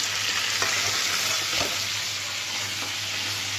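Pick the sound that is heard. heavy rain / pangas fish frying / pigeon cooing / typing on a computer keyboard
pangas fish frying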